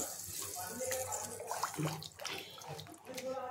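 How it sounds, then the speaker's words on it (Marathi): Two glasses of water are poured into a pan of cooking black-eyed pea curry, making a close, splashing gush that rises and falls over a few seconds. "आता ह्याच्यामध्ये मी 2 ग्लास पाणी टाकते।"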